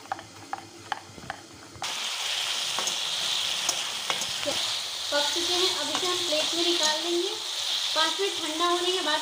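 Cumin tempering in hot mustard oil in a kadhai: after a few light clicks, a loud, steady sizzle and crackle abruptly fills the rest of the clip, with no talking.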